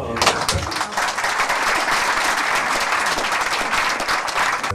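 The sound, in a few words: audience applauding a performer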